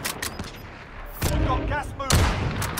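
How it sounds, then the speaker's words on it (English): Gunfire in Call of Duty: Modern Warfare Warzone, with a few sharp shots early, then two louder bursts of firing that ring out, while a player talks at times. "Oh, someone else is shooting."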